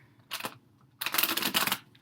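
A Light Seers tarot deck is shuffled close up: a short riffle of cards, a brief pause, then a longer burst of rapid fluttering card snaps.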